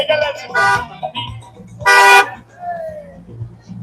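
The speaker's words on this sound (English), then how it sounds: "All the cars are tooting." Car horns tooting in the street outside the Bell Hotel in Epping during a lively gathering, two loud blasts and several shorter toots over a background of voices and crowd chatter.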